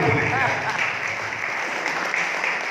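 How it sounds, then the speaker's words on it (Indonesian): An audience at a storytelling talk applauds in a continuous wash of clapping, steady and moderately loud for the short stretch, with some voices mixed in. "tepuk tangan dulu boleh."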